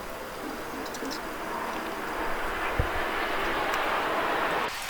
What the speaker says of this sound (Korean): 전투기가 아파트 위로 날아가거든요.